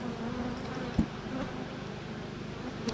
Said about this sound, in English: the damn bees got back up here